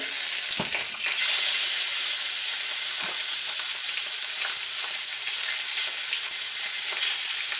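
Beef short ribs sear in a smoking-hot pan with a loud, steady, close sizzle that holds throughout, broken by a few faint knocks of the meat being moved.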